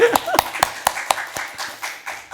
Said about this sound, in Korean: 왜 당신 새벽 그래 박수 한번 쳐줘.